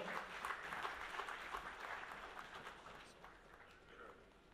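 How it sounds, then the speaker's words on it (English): Applause from a summit audience greeting Pavan Varma, Member of Parliament, at a big debate event: dense, steady clapping from a crowd that stays fairly even, then slowly thins and softens toward the end. "Can we have a round of applause for Pavan, sir?"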